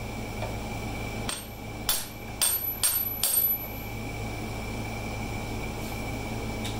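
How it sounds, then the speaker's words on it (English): Five sharp metallic hammer strikes hit an impact driver to loosen a screw during teardown of a Kubota G4200 tractor, spaced irregularly over a steady hum. "when you hit it with a hammer, it turns and pushes at the same time"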